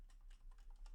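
A username being typed on a computer keyboard, with about seven quick, soft key taps in an uneven rhythm, faint and close.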